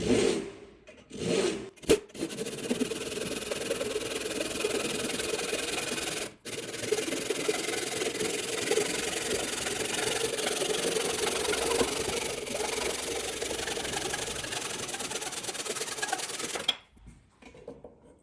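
Steady rasping strokes of a handsaw cut on the pull stroke through wood while shaping the tenon of a mortise and tenon joint, continuous and close for most of the span with a few short pauses before and after.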